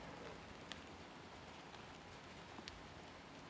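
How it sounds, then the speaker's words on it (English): Rain falls steadily on an outdoor disc golf course during a tournament round, a soft, even hiss with a few faint drop ticks and no voices. "That's a really nice rain noise."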